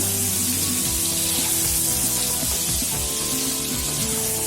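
Chicken chowmein ingredients fry in a pan with turmeric and Kashmiri red chili powder, a loud, steady hiss running throughout with faint stirring knocks underneath and no voices.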